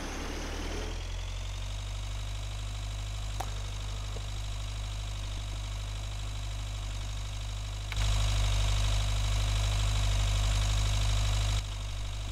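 Tractor engine idling inside the farming video game Agricultural Simulator 2013, a steady loud drone with a low rumble that jumps louder near the end, with no voices.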